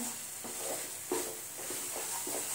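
Paneer and powdered sugar mixture stirred in a pan for paneer modak, a spoon scraping in soft, irregular strokes over a faint steady sizzle, close and quiet with no voices.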